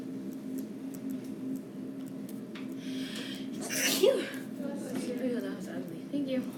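A single sneeze in a classroom, a short burst partway through, heard over a steady hum and low background murmur.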